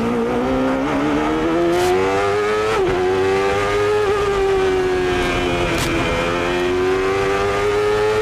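A 1993 CART Indy car at full speed around Laguna Seca, its engine a loud, continuous high-pitched scream from the cockpit, the pitch climbing and dipping slightly as it holds fifth gear downhill, with no talk.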